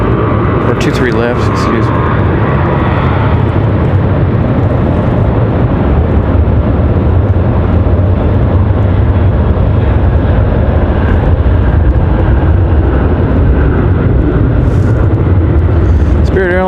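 A Southwest airliner moving along the runway at Raleigh-Durham, a continuous low jet rumble close by, with someone talking over it throughout.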